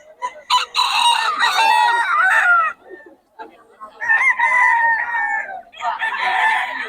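Roosters at a cockfighting venue crow loudly and repeatedly in long drawn-out calls, close and overlapping, with some clucking between crows.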